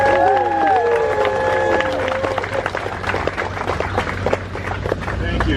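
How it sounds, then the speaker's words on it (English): Audience applause and cheering from a crowd at a plaque unveiling ceremony for the Flying Turns coaster at Knoebels, steady clapping rising over a held musical tone at the start and continuing with scattered voices. "So big round of applause."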